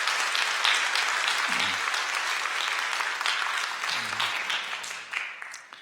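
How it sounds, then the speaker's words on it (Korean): Church congregation applauding to welcome a newly registered member during a Sunday worship service, steady moderate clapping from a roomful of people with a couple of faint voices beneath it, easing off at the end. "여러분들 환영의 박수 부탁드립니다"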